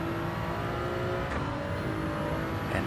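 Toyota Supra race car engine in Gran Turismo 7 drones steadily at high revs with a sustained engine tone, loud and continuous throughout, with brief transient swells near the middle and end, and no voices.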